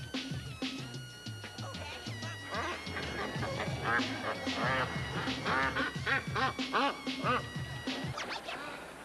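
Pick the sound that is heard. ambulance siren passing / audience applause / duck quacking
duck quacking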